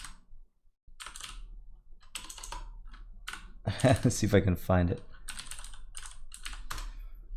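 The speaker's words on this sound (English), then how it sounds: "if you're hearing the keyboard, I actually swapped out my crazy loud mechanical keyboard for something else during the course on the laptop" Quick bursts of typing on a laptop keyboard, clustered clacking keystrokes separated by short pauses, near and fairly loud, while someone talks over part of it.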